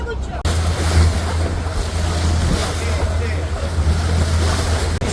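Motorboat on an island-hopping ocean tour, a steady loud rush of water and wind across the microphone with a low engine hum running underneath throughout, close and continuous.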